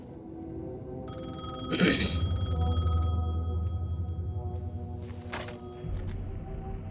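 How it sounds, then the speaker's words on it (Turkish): A payphone rings in the video game Alan Wake 2 with a steady electronic ringing tone that holds for several seconds. Two brief louder bursts cut in over a low, constant ambient hum. "The payphone was ringing."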